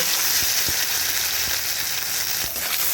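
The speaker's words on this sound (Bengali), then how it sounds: "এবারে ফোড়নে দিয়ে দিলাম এক চামচ কালো জিরে একটা গোটা শুকনো লঙ্কা" Black cumin seeds and a whole dried red chili hit hot oil for a tempering, giving a steady close, loud sizzle with a few sharp pops and crackles throughout, no voices.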